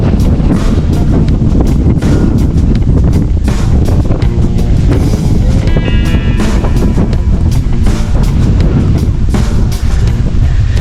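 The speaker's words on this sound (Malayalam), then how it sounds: "ഈ കാറ്റടിക്കുമ്പോൾ പറഞ്ഞാൽ കേൾക്കില്ല" Strong wind roars across a microphone on a hilltop viewpoint in Kerala, a loud, continuous buffeting rumble that fills the whole clip without a break.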